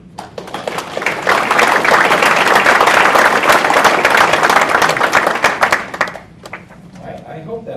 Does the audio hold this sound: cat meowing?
no